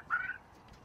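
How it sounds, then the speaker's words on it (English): A single short gobble from a turkey in a backyard flock, one quick call at fairly low volume against quiet background noise. "Oh, these turkeys are talking."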